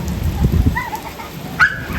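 Rain falls outdoors on a Sunday, a close and fairly loud patter with a few thumping bursts and some brief chirping calls rising over it.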